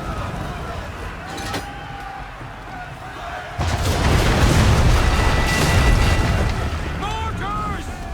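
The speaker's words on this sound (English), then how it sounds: "Mortars!" Mortar explosions in the video game Assassin's Creed 3, during a naval battle: a heavy, rumbling boom erupts midway and lingers as a loud, broad roar, with distant blasts and shouted voices.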